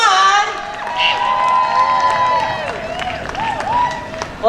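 A crowd at a San Francisco Japantown street fair cheers and shouts with scattered clapping, high excited voices and whoops rising and falling over several seconds, fairly loud and close.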